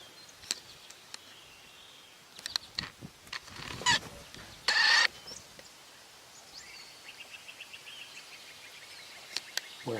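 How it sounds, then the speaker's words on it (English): A great crested flycatcher gives one loud, brief call partway through, set among scattered faint chirps and ticks from other birds outdoors. "We're hearing a great crested flycatcher."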